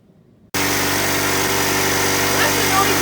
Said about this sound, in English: Outside we've got a saw.